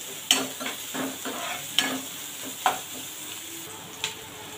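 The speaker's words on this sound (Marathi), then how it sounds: "कांदा आपला चांगला भाजला जात आहे" Finely chopped onion fries in a pan with a soft steady sizzle, while a few distinct stirring knocks and scrapes land about once a second. No voices.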